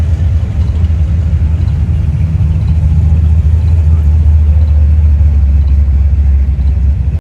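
Loud, continuous low rumble of car engines idling and exhausts along a line of vehicles at a Pigeon Forge rod run car show, heard up close while walking past.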